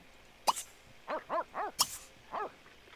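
Several short, rising-then-falling dog barks, like yips, from a pet dog in The Sims 3 life-simulation game. A sharp click comes first, then four or five separate barks in an uneven rhythm, fairly close and clear, with no talking.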